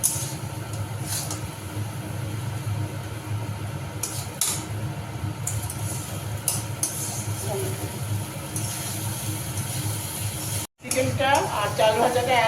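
Chicken being sautéed and stirred together with fried rice in a pan: a continuous low sizzle with occasional clinks of a spatula against metal, under steady talking throughout.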